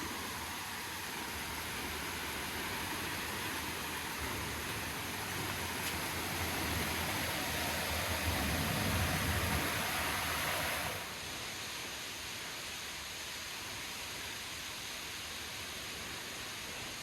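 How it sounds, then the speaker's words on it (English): Lower waterfall in a river gorge producing a steady, broad rush of falling water, moderately loud and constant, with a slight change in level partway through and no talking. "So I think I hear the lower falls."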